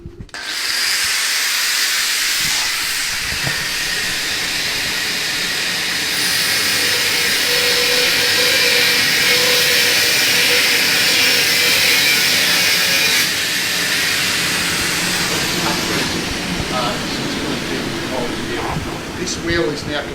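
Abrasive cutting wheel slicing through 6mm mild steel, a loud continuous high-pitched grinding screech that holds steady for about fifteen seconds and then tapers off.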